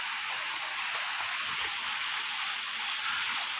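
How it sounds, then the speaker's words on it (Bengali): Heavy rain pours steadily outside, a dense, even hiss of water drumming on surfaces that holds at a constant level throughout, with no voices. "দেখো বাইরের দিকে কত জোরে বৃষ্টি হচ্ছে, পুরো ঝমঝম করে বৃষ্টি হচ্ছে।"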